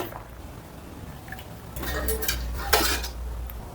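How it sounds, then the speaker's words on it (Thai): Boiled tilapia lifted out of a cooking pot, with a short burst of metal utensil scraping and clinking against the pot near the middle, over a quiet kitchen background. "ปลาสุกแล้วก็ตักออกเลยครับ"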